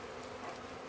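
Honey bees buzz in an open beehive during a Vermont beekeeping workshop, a steady, close, moderately loud drone that stays even through the short moment with no voices over it.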